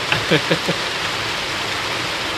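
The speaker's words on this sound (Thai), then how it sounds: "ได้ยินอยู่ฝนดังหนักสุด" Heavy rain falling steadily in a dense, even hiss at an elephant's quarantine area, with a few brief voice fragments near the start and rain alone afterwards.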